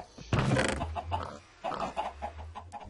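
Pigs in the Minecraft video game give a few short grunting oinks close by, with other game sounds in the background.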